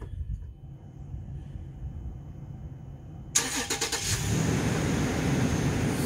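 A car engine cranks and catches after a quiet stretch when started by a DS3+ remote start system, then settles into a steady, close idle with a slight rev.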